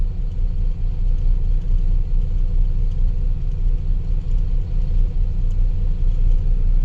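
A truck hauling dust from one plant to another gives off a steady, loud low engine rumble that holds close and unbroken throughout, with no voices.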